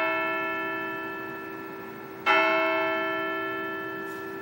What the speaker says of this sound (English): These bells are still played today.